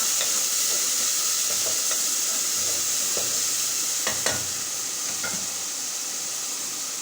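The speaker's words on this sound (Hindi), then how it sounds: "1 मिनट इसको भूनेंगे हम।" Steady sizzling and hissing of onions and ginger-garlic paste frying in a hot pan, with occasional stirring scrapes, close and continuous.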